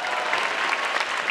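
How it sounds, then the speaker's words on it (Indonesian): An audience at an Indonesian comedy show applauds a performer, dense continuous clapping heard up close and fairly loud through the whole short stretch. "Beri tepuk tangan sekali lagi untuk Gautama."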